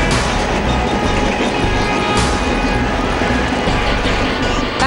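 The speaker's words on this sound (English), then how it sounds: "we're on the train from Shanghai to Beijing" A Chinese high-speed bullet train from Shanghai to Beijing cruises at around 300 km/h, a loud, steady broadband roar heard from inside the carriage with faint rhythmic rail clatter.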